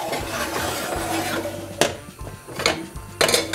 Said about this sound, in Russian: Переставлю кастрюльку на маленькую конфорку.